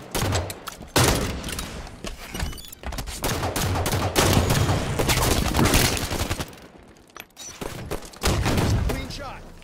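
Heavy gunfire in Halo 5: Guardians online team duos play, dense bursts of rapid shots and thumps that come in waves with brief lulls, loud and close, with voices talking underneath.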